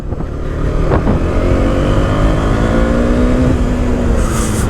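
A motorcycle revs hard above 5,000 RPM on a highway ride: a loud, close, continuous engine drone with a slowly rising pitch, with no speech.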